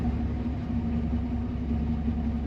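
A 1980 Chevrolet C10 street rod pickup engine hums steadily with a low, even rumble and drone, close and continuous, no speech.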